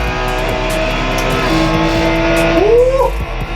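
Ferrari 488 engine in a racing video game, driven with a Thrustmaster TS-PC Racer wheel, droning steadily with rising and falling revs and a pitch sweep near the end, loud and continuous.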